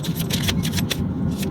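Tarot cards being shuffled by hand, a run of soft papery riffling bursts and slaps, close and moderately loud over a low room hum, with the texture thinning toward the end.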